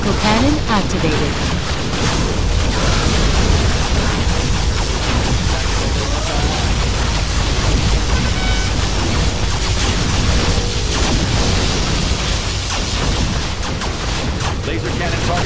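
Particle cannon fire and explosions in the Command & Conquer Generals Zero Hour real-time strategy game, a dense, loud, continuous barrage of booms and blasts with unit voice lines mixed in.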